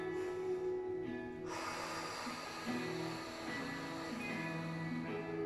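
Deep, full breaths taken during a Pilates exercise, slow drawn inhales and exhales heard up close and fairly quietly, with no talking over them.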